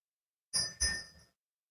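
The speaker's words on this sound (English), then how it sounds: "it was picking up the bird ringing his bell." Two quick metallic rings of a small bell, close and fairly quiet, each trailing off briefly in an otherwise silent room.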